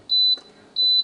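Two short, high electronic beeps from a Gourmia French Door XL oven control panel, evenly spaced and sharp, with faint background noise between them.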